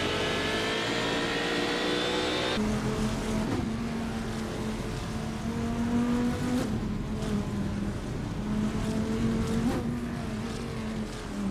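Race cars in a racing video game, among them a 1998 TVR Speed 12 GTS, roar in a steady, loud engine drone with shifting pitch and brief rises as they run nose to tail.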